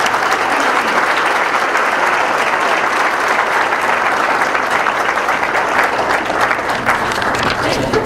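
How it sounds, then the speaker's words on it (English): A sustained round of applause fills a school gym at a high school senior awards ceremony, dense and even, with some voices mixed in. "round of applause for Patrick Davis one more time"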